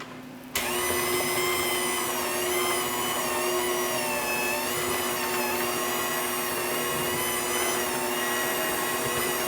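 An electric hand mixer switches on abruptly and whirs steadily as olive oil brownie batter is mixed, a loud continuous motor hum that lasts to the end.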